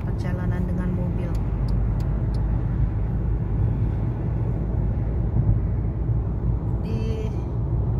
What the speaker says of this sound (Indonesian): 30 menit perjalanan dengan mobil.